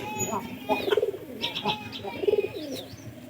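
Soft pigeon coos come in two short rolling bursts, near and fairly quiet, against a light background murmur.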